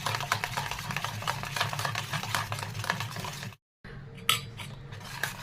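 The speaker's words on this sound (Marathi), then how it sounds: "आता आपण हे साहित्य सुद्धा घालून घेऊया याच्यामध्ये आणि सुद्धा घातल्यानंतर छान असं मिक्स करून घ्यायचं आहे" Raw mango panna being mixed with cardamom and cumin powder, salt and other spices, giving steady close scraping and clinking of a utensil against a vessel, with a brief silent gap and a sharper clink near the end.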